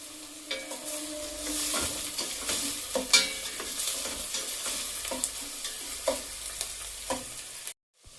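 Chopped onion, ginger and garlic frying in a pan for pav bhaji, a close, busy sizzle broken by repeated scraping stirs of a spoon against the pan.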